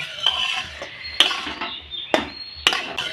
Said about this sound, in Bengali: একটু নাড়াচাড়া করে এই সুজিটা এখন আমি নামিয়ে নেব